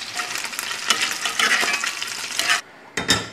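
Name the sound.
spaghetti cooking in boiling salted water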